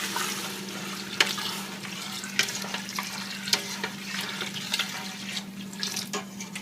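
About three quarters of a gallon of milk pours into a pot for chicken corn chowder, a quiet continuous liquid rush over a low hum, with small splashy ticks scattered through it.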